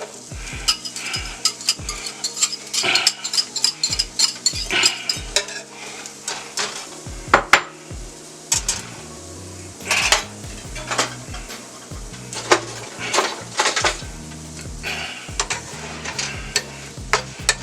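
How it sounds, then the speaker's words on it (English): Chopped onion cooking in melted butter in a pan, a soft steady sizzle close by, broken up by frequent clinks and scrapes of a utensil stirring against the pan. "Got my onion in the butter, and that's melting down."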